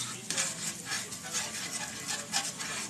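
Pork chops frying in a mix of half extra virgin olive oil and half butter: a brisk sizzle with stirring and light utensil clinks over a few seconds, no voices.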